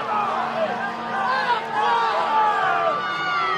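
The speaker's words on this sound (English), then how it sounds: "now the Snider crowd getting restless with the delay in the conversations" A restless home football crowd at Snider waits during a stoppage, giving a murmuring, rising hubbub with scattered shouts and whistles that fills the stands.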